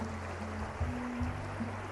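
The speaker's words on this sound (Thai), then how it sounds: "น้ำนี้ก็จะมาจากน้ำตกวังตะไคร้นะครับ นี่ครับไหลตรงมาจากวังตะไคร้เลย" A shaded stream fed by Wang Takhrai waterfall flows steadily past land in Nakhon Nayok, producing a soft continuous rush of water with a couple of low thumps.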